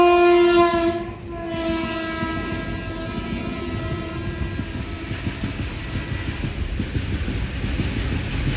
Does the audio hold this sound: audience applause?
no